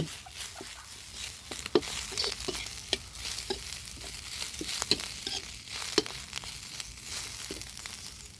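Plucked cha-om leaves being stir-fried and tossed in a pan give a soft, continuous sizzle broken by irregular scraping and clattering stir strokes, close and moderately quiet, with no talk.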